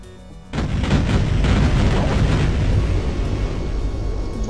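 Fireworks in Duke Nukem 3D: after a brief quiet moment, a sudden burst of loud booming explosions rolls into a sustained, rumbling barrage of overlapping blasts.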